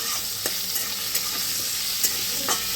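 Onion, ginger and garlic are stirred in a pan for a homemade chicken soup, with a steady sizzle broken by several sharp spoon scrapes and taps.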